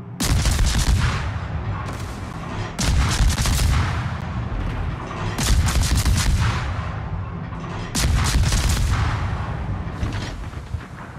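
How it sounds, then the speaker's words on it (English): Naval guns fire in the World of Warships video game, aboard the destroyer Kidd. Loud booming salvos repeat every couple of seconds, each followed by a rolling rumble. "All stations, concentrate fire on the target."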